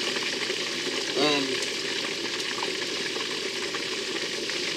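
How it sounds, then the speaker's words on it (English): French fries frying in hot oil give a steady, close sizzling hiss, with a brief voice-like sound partway through. "we watch these here fries fry"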